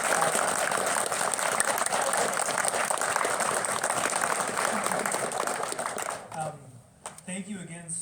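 An audience applauds a poetry reader at a youth literary arts event, broad dense clapping that holds steady and then fades out near the end as a voice begins to speak.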